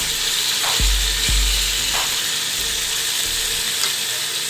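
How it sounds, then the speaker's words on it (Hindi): Mutton frying in masala in a pan gives a steady, dense sizzle, with a few low thumps and scrapes from stirring. "अब इसके अंदर हम जो है वो गोश्त ऐड करेंगे और इसको फ्राई करेंगे इसके अंदर।"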